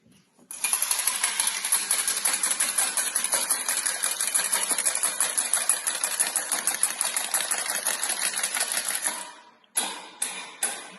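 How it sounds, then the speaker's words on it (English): An egg being whisked briskly in a bowl for gingerbread men, a fast continuous rapid clicking and rattling that runs for about nine seconds, then a few short final strokes. "I'm going to whisk an egg while they're melting."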